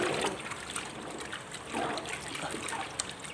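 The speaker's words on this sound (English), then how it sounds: "the white cloth we put like this in the water" White linen cloth being dipped and moved in a basin of starch water, giving soft trickles and small splashes in quick, irregular bursts at close range.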